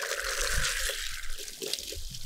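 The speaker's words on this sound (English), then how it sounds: "we're going to turn the water on" Water gushes and trickles steadily after being turned on, a close, continuous pour and slosh with a bit of murmuring in the background.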